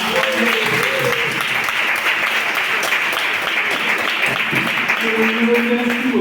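A church congregation at a Saturday praise and healing service applauds in a sustained, dense wash of clapping, with voices singing or calling out over it.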